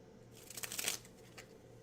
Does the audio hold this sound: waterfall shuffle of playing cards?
yes